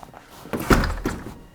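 Heavy, durable wooden door in an abandoned villa pushed open, giving a close, low thunk followed by a brief rumbling scrape and a second softer knock.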